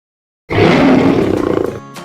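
A lion roar used as a sound effect in a dentist advertisement: one loud, sustained, rough roar that rises suddenly and fades into a lower growl near the end, standing alone without speech.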